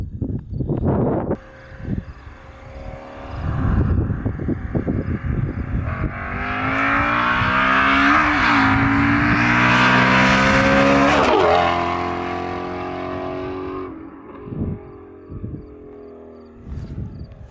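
A Shelby GT350 approaches from afar on an open rural road, its engine swelling into a loud high-revving roar as it passes close, then fading away, with wind noise before and after.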